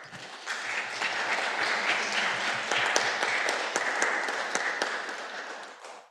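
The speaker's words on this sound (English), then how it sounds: "I can only echo the applaud from the audience for the impressive presentation" Audience applause following a presentation at a World Sepsis Day event, sustained crowd clapping with some sharper individual claps standing out, building then tapering off at the end, heard on its own.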